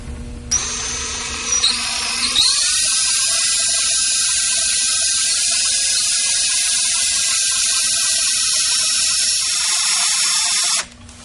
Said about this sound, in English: we're going to drill through the side of this cap screw